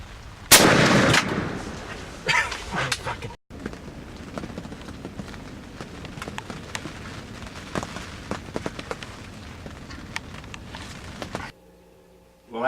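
Shotgun blasts fired at a tough old wild turkey gobbler during a spring hunt, with a loud close shot early followed by further sharp reports and rustling outdoors, then near silence at the end.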